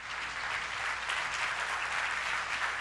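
A church congregation claps together in sustained, dense applause that fills the room steadily from start to finish, with no voices rising above it.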